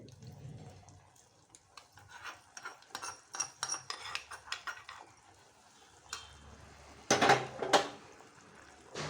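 A tempering is stirred into a hot tomato stir-fry in a pan: scattered spoon-on-pan clinks and scrapes with soft liquid sounds, quiet and close, louder clattering bursts near the end, no talking.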